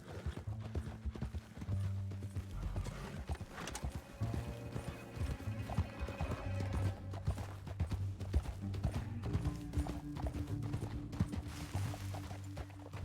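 Horse hooves clip-clopping in Red Dead Redemption 2, a steady rhythmic run of hoof beats with a brief whinny, mixed with game music tones and mechanical clicks, no speech.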